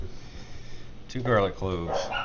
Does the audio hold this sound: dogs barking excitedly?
yes